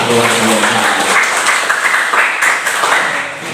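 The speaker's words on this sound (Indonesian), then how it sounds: "tepuk tangan buat kita semua" A school class of eighth-graders claps together, a dense, steady burst of many hands at close range that holds for a few seconds before tapering slightly, with a faint voice mixed in.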